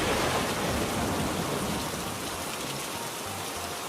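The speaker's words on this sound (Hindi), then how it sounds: "इस बारिश ने क्या कर दिया आज" Steady, dense rain pattering on a surface, even and continuous throughout, with no voices.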